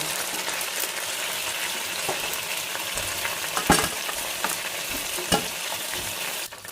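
Chicken wings deep-frying to golden in hot oil give a steady close sizzle and crackle, with a few sharp pops and clinks over the bubbling.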